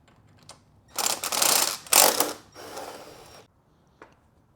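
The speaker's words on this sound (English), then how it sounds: "I had to use a stubby ratchet wrench to get it." Rapid clicking of a stubby ratchet wrench removing 13mm fairing bolts from a BMW K100 cafe racer, close and loud in a few bursts over about two seconds, then a single faint click, no talk.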